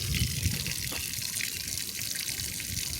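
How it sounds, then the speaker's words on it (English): Water draining out of a jacuzzi outdoors in DC, a steady rushing hiss of flowing water at moderate distance, continuous and unbroken, with no talk over it. "They got a jacuzzi back there, and they draining the water out of it."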